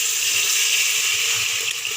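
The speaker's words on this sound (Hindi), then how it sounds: "अब इसके अंदर जो है पानी डाल देते हैं" Water poured into a simmering pot of potato and egg curry, a steady broadband gush that runs continuously for about two seconds, fairly loud and close, with no talking.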